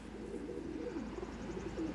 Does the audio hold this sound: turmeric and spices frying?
no